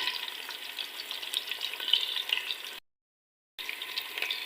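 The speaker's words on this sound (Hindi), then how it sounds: "प्याज को जो बिल्कुल जैसे हम चावलों के लिए, पुलाव के लिए लाइट ब्राउन कलर करते हैं, गोल्डन कलर, तो उतना हमने इस प्याज को फ्राई करना है।" Onions frying in a pan for spinach pulao give a steady, fairly quiet sizzle with a soft crackle that drops out abruptly for under a second before resuming.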